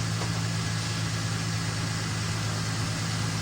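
A $200 Ford Mustang's engine runs at a steady idle, a constant low hum with a few droning tones, heard alone with no voices.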